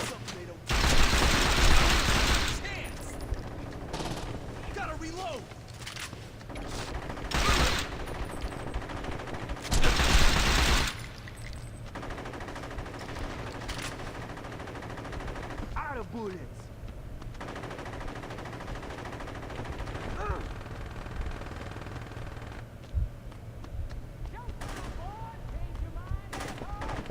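Bursts of automatic gunfire in the video game Saints Row 2 during a siege on a pot-plant farm: loud sustained volleys come in bursts, with lulls of quieter shots and background game sounds between them, and someone talks at times.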